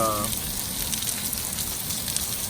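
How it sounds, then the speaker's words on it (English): Heavy rain pours down in a dense, steady hiss, drumming hard on surfaces close by with no letup. "it started downpouring"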